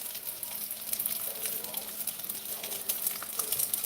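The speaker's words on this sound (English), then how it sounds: "Listen to the sizzle, folks." Food sizzles steadily in a frying pan, a continuous close crackle and hiss with brief brighter spatters throughout.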